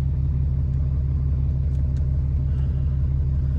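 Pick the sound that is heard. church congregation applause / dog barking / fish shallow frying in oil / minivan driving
minivan driving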